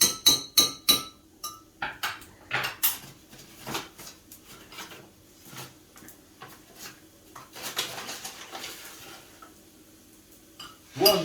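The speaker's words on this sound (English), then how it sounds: "Let's give this a whiz up with the old fork and find out." Fork tapping and clinking against a bowl while beating eggs with flour into a batter, a run of quick uneven metallic clicks and scrapes at close range, fairly quiet, with no talk.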